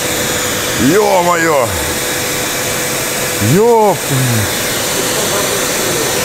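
A vacuum cleaner, overheating and giving off smoke, runs inside a car as a steady close whooshing drone, with a man's two short exclamations rising above it.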